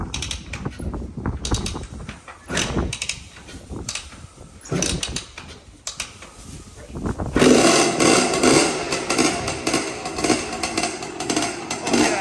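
A Honda TRX250R ATV's two-stroke engine, just rebuilt, runs with the choke pulled, a loud, ragged, buzzing drone broken up by clanks and mechanical noise at first, then a steady, sustained roar through the second half.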